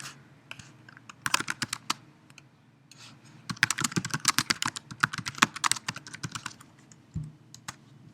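A poll name being typed on a computer keyboard, heard as close, crisp key clicks in quick bursts with brief gaps and a few isolated taps near the end, with no speech.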